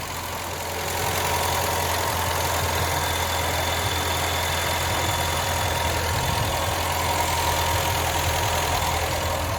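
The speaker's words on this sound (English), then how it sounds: "That has to be one of the quietest Kent engines I have ever heard." A Kent engine idles in a classic car, with a smooth, steady low rumble and a faint, quiet tappet tick, close by and unbroken after it swells up in the first second.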